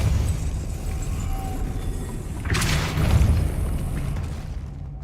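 A Depulso spell strikes in Hogwarts Legacy, a sudden whooshing burst midway through that lands as a deep boomy impact over a low rumbling game backdrop, then fades out.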